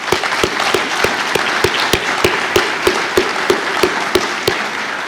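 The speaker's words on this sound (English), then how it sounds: "Can we please give them a round of applause?" Steady applause from an audience at an economic development council annual meeting, dense clapping filling the whole stretch with a few sharper near claps standing out at a regular beat.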